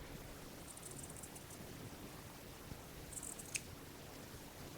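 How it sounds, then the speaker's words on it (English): Scissors trim a quarter inch of seam allowance from the short ends of fabric pieces for a Chanel-type jacket, producing a few faint, quick snips against a quiet, hissing background. "I'm going to trim about a 1/4 inch off the short ends of these"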